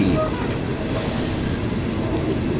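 Aboard rapid train No. 141 from Bangkok to Ubon Ratchathani, near Lam Plai Mat, a loud, continuous low rumble and rattle of the moving carriage fills the whole stretch.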